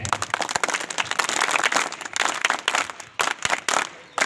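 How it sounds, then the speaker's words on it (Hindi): Crowd applause welcomes guests seated on stage at a seminar during a seven-day National Service Scheme camp. Dense, steady clapping continues throughout with a few louder sharp claps, and no voices are heard. "एक बार फिर तालियों से आप सम्मानी मंच में सभी जो लोग बैठे हैं उनका स्वागत"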